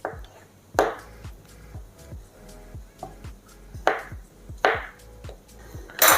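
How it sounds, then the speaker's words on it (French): Knife chopping cooked chicken livers into small pieces on a board for a chicken liver mousse, a run of sharp, close, uneven chops, some louder strikes standing out, with no talk. "Je vais le recouper en petits morceaux."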